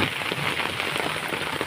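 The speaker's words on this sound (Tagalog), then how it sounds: "Padayon ang patak sa ulan" Rain patters and drips steadily on a surface nearby in cold weather, a dense, continuous crackling texture with no talk.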